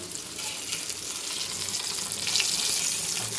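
Fish fries in a pan, a bright, crackling hiss that holds steady and swells slightly toward the end, heard up close with no voices.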